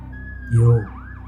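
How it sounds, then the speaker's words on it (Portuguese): A police-style siren wails briefly with a rising and falling tone, swelling into a short loud burst before settling into repeated sweeping whoops. "E ouvi o som de sirenes e de pessoas correndo."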